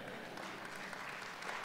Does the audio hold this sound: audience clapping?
yes